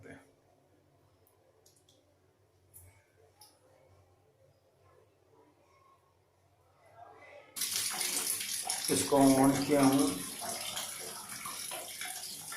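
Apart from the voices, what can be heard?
water flowing from instant geyser outlet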